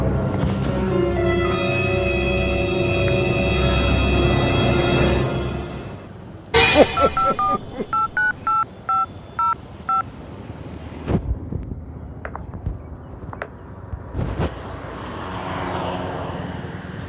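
Phone keypad dialing tones sound as a quick run of short, evenly spaced beeps before a call, after a sustained droning rumble that fades out, followed by scattered clicks and light rustling.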